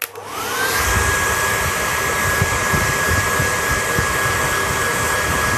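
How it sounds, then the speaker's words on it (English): A hair dryer on medium heat blows steadily and loudly at close range while a mustache is being styled, a constant airy roar with a thin whine running throughout after a quick start. "Once again, going to use the hair dryer"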